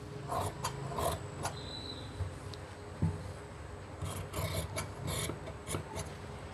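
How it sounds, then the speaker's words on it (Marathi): Shirt fabric being cut by a tailor gives close, quiet, repeated rasping strokes in short uneven bursts, with no talking. "आता हे शर्ट कटिंग करतो आहे."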